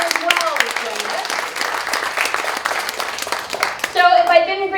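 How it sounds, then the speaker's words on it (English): Audience applause at a performing arts center season announcement, a moderate round of clapping with a voice talking over it, fading near the end as a speaker continues. "Another big round of applause for Mike Cutler as well."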